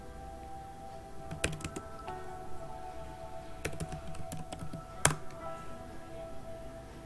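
Keystrokes tapped on a computer keyboard, a few quick clusters of clicks with pauses between them and one sharper key hit near the end, close and fairly quiet over a low steady hum.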